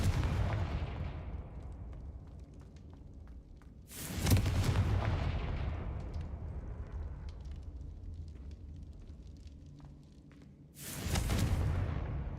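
Two heavy explosive blasts from the Confringo spell in Hogwarts Legacy, a booming burst near the start and another near the end, each rolling over a low rumbling game backdrop with no talk.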